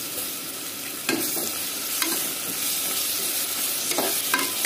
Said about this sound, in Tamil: இஞ்சி பூண்டு பேஸ்ட் போடுறேங்க.